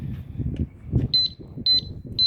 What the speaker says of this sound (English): Sorry about that, my disc alarm is on my bike,